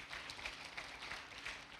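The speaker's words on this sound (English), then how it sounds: "Can you do a better round of applause for" An audience at a women leaders celebration event claps in a brief, dense round of applause, faint and somewhat distant, with no talking over it.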